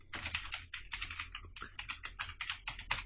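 Quick, close keystrokes on a computer keyboard as a file name is typed, a dense run of crisp clicks in short bursts with tiny pauses, no talking.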